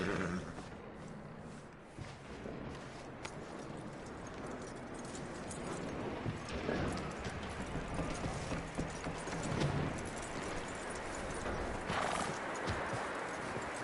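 Horse hooves clip-clop steadily on hard ground while a horse snorts and whinnies, with faint mechanical clinks in the background, in the video game Red Dead Redemption 2.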